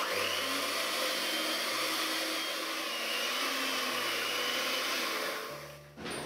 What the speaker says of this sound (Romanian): Amestecăm acest aluat cu mixerul sau cu mâna, dacă nu dorim.